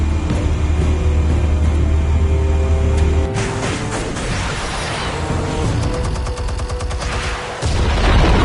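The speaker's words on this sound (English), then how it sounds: "Explosives armed. Fire when ready." Explosives going off in a Batman video game, a loud sustained roar of blasts and rumbling booms with crackling debris, dense and continuous with brief shifts in intensity, no voices.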